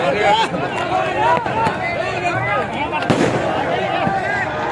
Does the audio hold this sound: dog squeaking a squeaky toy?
no